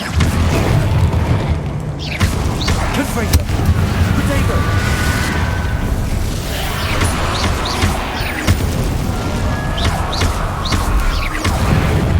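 Explosive spell blasts in Hogwarts Legacy boom one after another over dense, continuous game noise, loud and close, with a voice speaking through the action.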